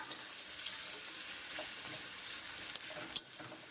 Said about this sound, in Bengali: এই দেখো পেঁয়াজ কিন্তু একদম ব্রাউন কালার ভাজা হয়ে গেছে